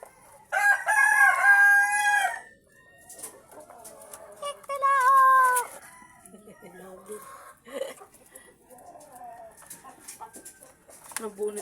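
A rooster crows loudly twice with harmonic, drawn-out calls, followed by scattered clucks and softer voices mixed with background activity.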